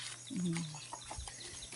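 A chicken gives a short cluck close by, with faint background noise and a few soft sounds around it.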